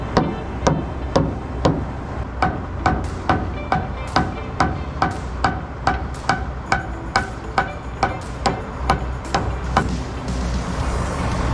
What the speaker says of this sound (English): Now maybe if I can just hammer it this way some